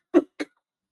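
Two short coughs from a Spanish football commentator, a stronger one followed by a lighter one, close and dry, with silence after.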